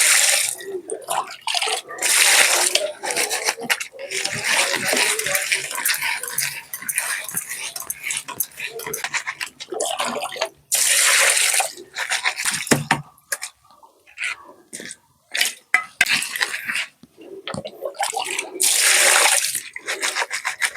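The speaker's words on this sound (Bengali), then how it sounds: "এবার মাছগুলো ধুয়ে নেব ভালো করে।" Small puti fish being washed by hand in water, with sloshing, splashing and rubbing sounds that come and go in bursts, with short quiet gaps between them.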